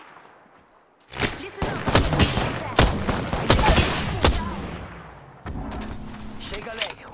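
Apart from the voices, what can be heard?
gunfire shooting at the player in the video game Apex Legends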